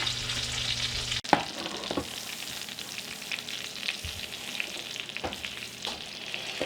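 Steak sizzling in a hot cast iron skillet, a steady close hiss and crackle with a few sharp clicks and light scrapes along the way.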